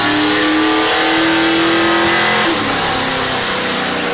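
On a dyno, a 2002 Pontiac Trans Am with a Procharger F1A-94 supercharged 408 stroker engine screams at high, sustained revs with a steady supercharger whine, then the pitch drops as the throttle eases, loud and close.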